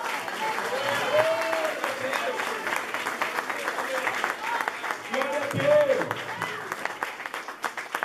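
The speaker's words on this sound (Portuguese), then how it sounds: "Vamos aplaudir. Vamos aplaudir." Church congregation applauding during a Sunday service, a lively stretch of clapping from a crowd with voices calling out over it and a few sung or shouted tones rising above the hands.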